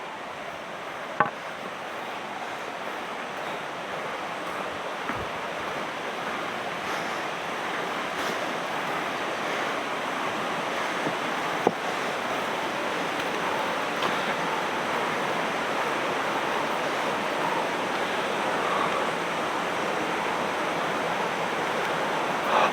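A broad, continuous rush of a rain-fed mountain stream on the Sathuragiri trek in Tamil Nadu, loud and steady throughout, with no voices and only a few brief clicks.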